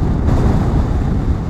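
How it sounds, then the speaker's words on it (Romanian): Steady, loud wind roars and buffets against the microphone of a rider on a Honda Transalp 650 motorcycle touring in Norway, a continuous low rumble filling the whole moment with no talk. "Mamă, ce rafală de vânt am luat."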